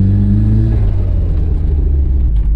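A radio-controlled RS500 Cosworth car accelerating hard on tarmac with wheel spin: a loud, close, steady buzzing engine drone that rises in pitch, heard alone without speech.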